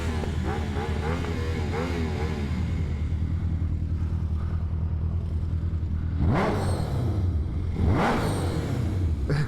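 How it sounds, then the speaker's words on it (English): An Aprilia RS660 with an SC exhaust idles, then blips sharply twice inside a tunnel, the rev spikes ringing out loud and echoing over a steady low rumble. "Obligatory tunnel rev bomb. Yeah, love this SC exhaust."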